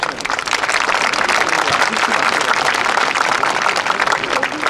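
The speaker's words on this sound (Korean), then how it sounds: "소개할 때마다 최선을 다한 우리 선수들에게 뜨거운 박수를 부탁드리겠습니다" Gallery spectators at the 2019 Hana Financial Group Championship women's golf tournament applauding players as they are introduced, a continuous wash of many clapping hands heard from within the crowd.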